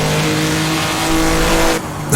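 A race car engine in Assetto Corsa revs hard through the gears with no brakes, a loud steady high-pitched drone that climbs, then drops abruptly at a gear change near the end.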